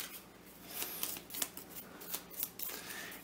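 Gorechosen cards from a Warhammer Age of Sigmar board game being shuffled by hand, a quiet run of crisp riffling and snapping bursts repeating close up with no talk.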